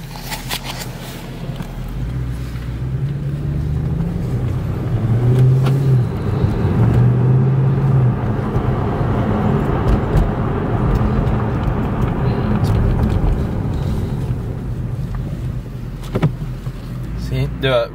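A 2012 Mercedes C63 AMG drives with its windows down, its engine a steady, loud drone that swells during acceleration midway, with road and wind noise around it.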